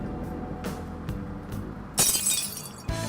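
A screen shatters in the Persona 5 video game, a sudden bright burst of breaking glass with tinkling fragments, followed by a second sharp hit after some softer thuds.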